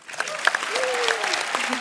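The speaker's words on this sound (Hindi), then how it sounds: "एमी रजनी सर के साथ रोबोट 2 कर रही है, उसके लिए तालियां।" A studio audience on a television comedy talk show bursts into brief applause, clapping close and lively, with a voice speaking over the clapping.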